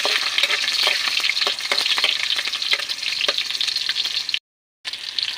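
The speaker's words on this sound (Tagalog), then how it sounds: "ako ay magigisa na ng bawang" Garlic sautéing in hot oil for adobo sa gata with dalag fish, a steady close sizzle with scattered stirring clicks and a brief silent gap near the end.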